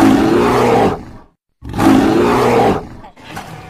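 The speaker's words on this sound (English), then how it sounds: "Oh my god, tiger" A tiger roars loudly and close, two long sustained roars separated by a brief silence, with a third starting at the end, in a children's toy and cartoon animal setting.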